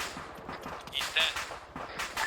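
A rapid burst of auto rifle fire from a soldier in the Arma 3 military shooter crackles in quick repeated shots, fairly close, amid other battlefield noise.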